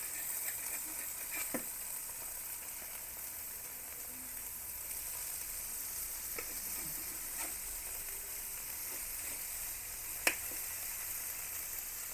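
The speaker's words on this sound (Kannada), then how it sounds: "ಒಳ್ಳೆ ಫ್ರೈ ಆಗಿದೆ ಮೀನುಗಳು" Boneless mackerel (bangude) frying in oil in a pan, giving a steady, faint crackling sizzle with a few scattered sharp pops and no talk.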